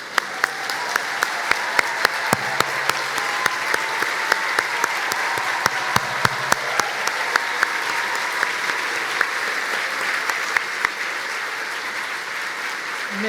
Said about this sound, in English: please stand as we recognize you with a round of applause